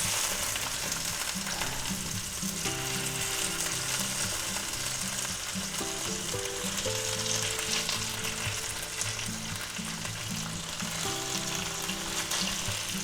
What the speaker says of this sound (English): we'll take our pork and we'll put it back in there